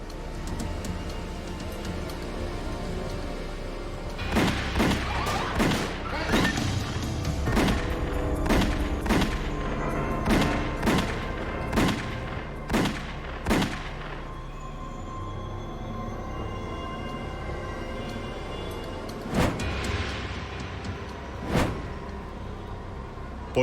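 A staged mob hit outside a car, rendered as a burst of sharp gunshots in rapid succession, several cracks fired close together, then a pause and two more isolated shots over a low tense musical background.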